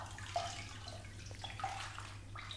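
Bath water splashes and trickles softly while hair is rinsed in a tub, with gentle irregular drips and pours over a low steady hum, quiet and close.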